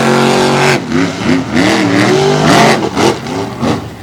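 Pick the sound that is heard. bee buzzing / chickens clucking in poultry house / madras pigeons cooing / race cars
race cars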